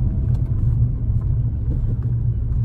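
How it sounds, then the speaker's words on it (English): A learner driver's car engine gives a steady, loud low rumble from inside the cabin as gas is applied, holding an even drone with no clear rise in pitch. "Bit of gas and select second gear."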